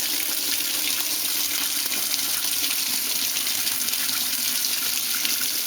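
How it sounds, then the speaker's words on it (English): Water gushing steadily into the drum of a Maytag Centennial HE top-load washing machine (MVWC415) as it fills, a constant hissing rush at moderate volume with no voices. "press the start button, and the water is going to start loading up"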